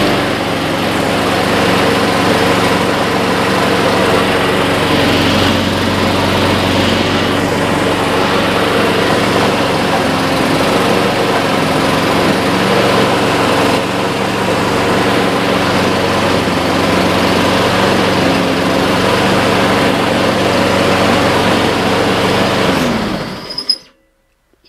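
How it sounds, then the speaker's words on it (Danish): A new Husqvarna AWD lawn mower with a Honda engine, running steadily at a loud, even idle-like drone close by for over twenty seconds before cutting off abruptly at the end. "Men i bedste Honda-stil, et træk, så startede den."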